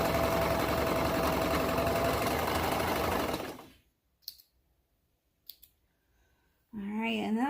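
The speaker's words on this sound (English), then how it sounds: "I'm going to go ahead and just serge the edge here" A serger sews the edge of a hoodie binding strip with a steady, fast mechanical whir for a few seconds, then stops, leaving near silence with a couple of faint clicks before a person starts talking.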